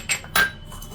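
Ginger, garlic, shallots, fennel seeds and curry leaves being crushed for chicken fry: two sharp, close knocks of a pounding tool against a hard vessel, followed by a brief quieter clink.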